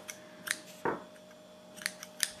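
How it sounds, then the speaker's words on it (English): Scissors snip through crochet yarn while a Christmas bauble is being made: several quick, crisp, close cuts spread across a quiet stretch, with a duller handling thump near the start. "Again, I'm going to be snipping off"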